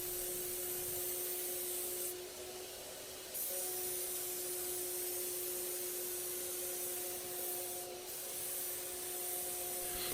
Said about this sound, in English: She's going to start the spray before she begins making the pass over the wood